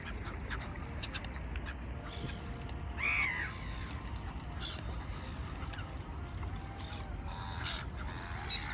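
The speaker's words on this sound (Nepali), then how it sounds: "आज फेरि चरा मात्रै छ" Several birds call and caw across open lake water in Crângași Park, Romania, with overlapping harsh cries and quacking-like notes from a small flock at moderate distance.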